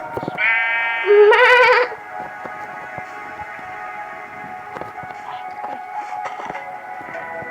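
A Minecraft sheep gives a drawn-out bleat that swells louder midway, then fades into a constant background hum dotted with light clicks.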